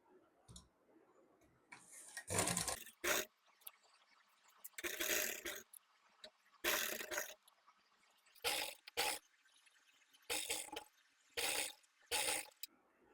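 Sewing machine stitching lace onto cloth, in loud bursts of rapid mechanical whirring separated by quiet pauses, up close with no talking.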